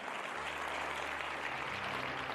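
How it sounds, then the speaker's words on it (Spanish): Steady, dense clapping from a crowd fills the whole stretch, fairly loud and continuous, with a low hum underneath. "Dale un aplauso al Señor."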